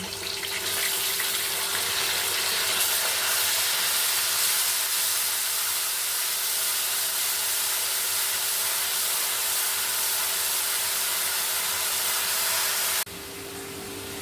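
Onion paste sizzles in hot oil in a home kitchen during chicken curry preparation. A loud, steady, close hiss runs without break for about thirteen seconds, then drops suddenly to a quieter sizzle.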